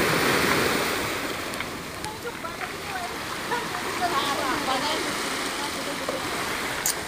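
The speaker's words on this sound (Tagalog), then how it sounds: "Ang lakas ng alon." Strong ocean waves at Sandy Bay beach in Kennedy Town, Hong Kong, a steady rushing surf with wind buffeting the microphone and people chatting faintly over it.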